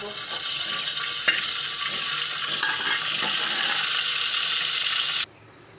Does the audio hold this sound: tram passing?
no